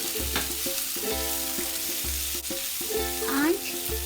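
Onion and finely chopped tomato fry in a pan with a steady sizzle. Repeated stirring knocks come at roughly one-second intervals over a constant tonal background.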